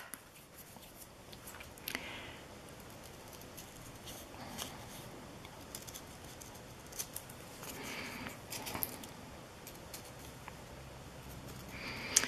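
Small scissors snip out flower motifs from a paper napkin for a craft project, faint scattered snips and rustling paper with soft crackles spread across a quiet stretch.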